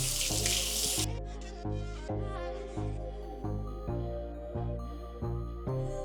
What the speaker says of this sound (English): And we'll thoroughly rinse the caliper.